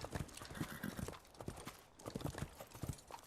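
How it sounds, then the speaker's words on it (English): Horse hooves clip-clopping in the Western Rye wild west survival game, a quick, continuous run of close hoofbeats in an even rhythm. "Too much horsey noise, I would say."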